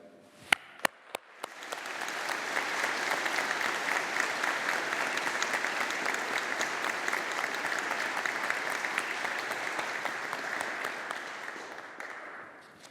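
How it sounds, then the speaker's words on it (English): Sustained applause from a large audience in a hall at a 2021 Faculty of Engineering graduation ceremony, beginning with a few scattered claps, swelling into a dense steady roar of clapping and holding for about ten seconds before tapering. "congratulating our graduates of 2021 on their achievements and their success with a round of applause from all of us here"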